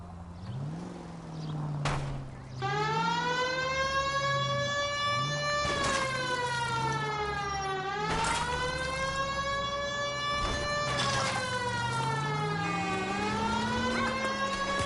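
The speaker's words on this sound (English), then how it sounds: "Turn on the siren" A police car siren in the video game LA Noire wails in long rising and falling sweeps, loud and close, cycling repeatedly with a low engine hum underneath.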